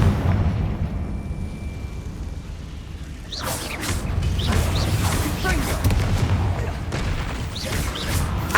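A Confringo blasting spell erupts in the Hogwarts Legacy video game, a loud booming explosion followed by crackling debris and bursts layered over a steady din of game sound, with a voice shouting the spell just before.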